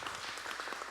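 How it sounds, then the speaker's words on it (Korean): A church congregation claps together in a brief, dense burst of applause, fairly faint and without talk. "우리 한번 박수 한번 해주세요."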